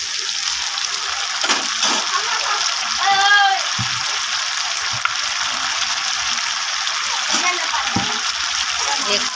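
A cooking pan is rinsed and water poured in while making a chicken curry, producing splashing and a running gush of liquid at close range, with a voice talking over it.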